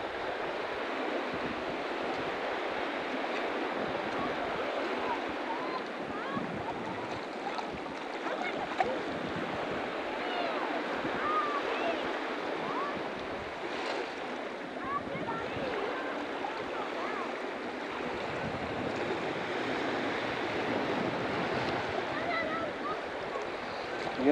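Ocean waves breaking on a beach at Indian Rocks Beach while metal detecting, a steady rushing wash of surf mixed with wind noise on the microphone, continuous throughout with occasional faint voices.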